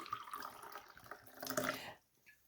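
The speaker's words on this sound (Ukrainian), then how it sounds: "І ось я ту воду наливаю в термос" Warm water pours and trickles into a thermos nearby, a soft, quiet splashing that stops abruptly near the end.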